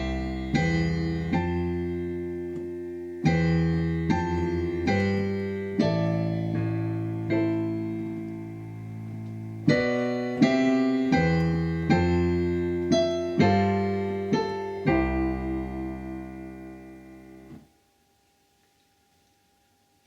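Piano playing a song with the right hand shifted up an octave, slow sustained chords and a melody that rings clearly and alone, then decays into silence near the end.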